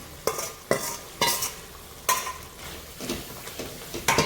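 Fried okra and paneer are stirred into a gravy in a pan, with a spoon scraping in uneven strokes over a soft sizzle, close and fairly loud, no talking.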